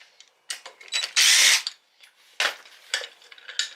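8mm bolts coming off a pit bike stator cover: close metallic clicks and taps, one loud buzzing burst of what sounds like a power driver, then more scattered clanks and rattles of tools and parts.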